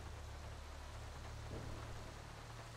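Heavy rain pours in a Grand Theft Auto V street scene, a steady dense hiss with a low rumble underneath and no voices.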